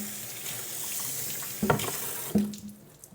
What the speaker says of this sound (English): give this a rinse